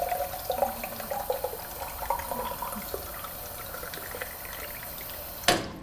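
Water from a drinking fountain runs into a sample bottle as a faint, steady trickle and gurgle, ending with a sharp click near the close.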